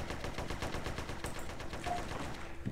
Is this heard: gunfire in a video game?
yes